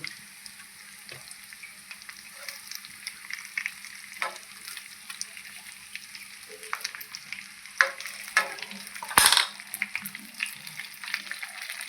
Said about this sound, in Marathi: गॅस कमी करून आता ही डोबळी मिरची आपल्याला अशीच वाफेवरती दोन ते तीन मिनटं परतून द्यायची आहे